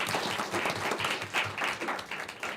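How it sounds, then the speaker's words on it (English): Audience applause at a township meeting: a crowd claps steadily at moderate distance in a brief, even burst of dense, overlapping hand claps. "Give them a round of applause."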